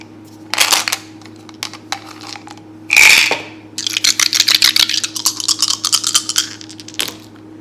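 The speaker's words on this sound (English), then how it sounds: "Okay, some dice." Dice shaken and tossed onto a hard surface during a tarot card reading, giving a dense run of clicking, clattering impacts with a brief louder rattle midway, close and fairly loud, with no talking.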